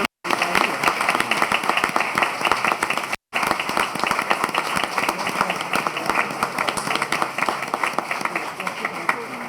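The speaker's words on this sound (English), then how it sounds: "Please give a round of applause for Miss Gracie Leonard." A round of applause from attendees at a housing authority annual meeting: sustained, dense clapping from a sizable crowd, loud and even throughout with a brief dropout near the start, plus faint voices mixed in.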